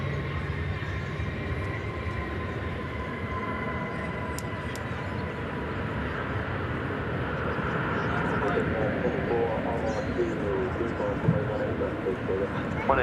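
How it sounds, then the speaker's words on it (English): American Airlines Flight 1812 from Colorado Springs touching down at DFW Airport, a broad steady jet roar that swells slightly near the end, heard at a distance. "As we have American Flight 1812 touching down from Colorado Springs."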